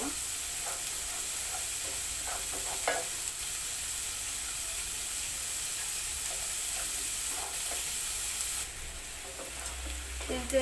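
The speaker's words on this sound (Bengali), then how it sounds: "পেস্ট একটু হালকা ভাজা হয়ে গেছে" Ginger-garlic masala paste for a chicken curry fries in a pan with a loud, continuous sizzle and hiss, broken by light scraping clicks of stirring throughout.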